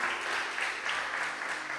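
A church audience claps steadily, a soft, distant wash of applause with no pause.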